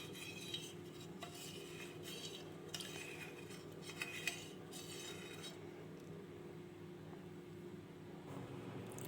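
A spoon stirs four spoonfuls of yogurt into milk to set curd, making soft repeated clinks and scrapes against the vessel over a steady low hum.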